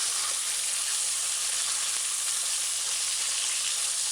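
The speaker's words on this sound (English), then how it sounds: "Just allow it to fry on one side" Ham and egg fry in a hot pan on a stove set to high for a Jamaican ham and egg sandwich, giving a steady, dense sizzle that holds evenly throughout with no voices.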